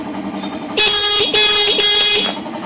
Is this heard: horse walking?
no